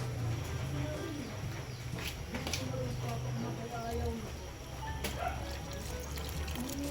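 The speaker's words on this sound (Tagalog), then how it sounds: "At ngayon naman po ay lalagyan na natin ng gatas." Milk is poured into a pot of sopas, a Filipino macaroni soup, during home cooking on a rainy day, a soft steady pouring trickle under background bird cooing and household noise.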